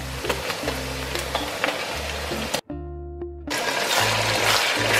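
Chicken meat hitting a hot pan of fried onions for quick pilaf, sizzling loudly and steadily. A brief dip into near quiet follows before the frying returns even stronger.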